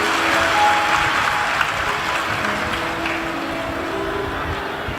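A large audience at a live Shiv Mahapuran katha gathering claps loudly and steadily in welcome for the host family, a dense, sustained wash of hands close and even throughout.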